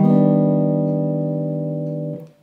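A single sustained piano chord from a reharmonized jazz progression rings out close and clear, decaying slowly for about two seconds before being damped, with no talk.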